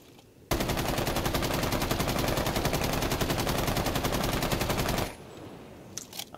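An LMG fires in the video game Rainbow Six Siege in one long sustained burst of rapid, evenly spaced shots, loud and close. The burst ends abruptly and is followed by quiet background.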